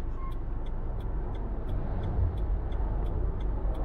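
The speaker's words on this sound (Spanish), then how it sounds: "¿Ven los carros que están ahí dando vuelta?" Cars circling slowly along a small street on a busy Saturday, a low steady engine rumble from nearby traffic with faint periodic ticking above it, no talk.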